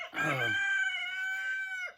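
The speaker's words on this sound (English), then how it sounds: "the roosters are happy. They crowing." A single rooster crows nearby, loud and clear, one long drawn-out call that rises sharply and holds before trailing off.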